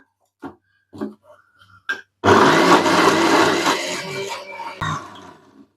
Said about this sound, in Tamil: இப்போ அதை அரைச்சி எடுத்துக்கலாம்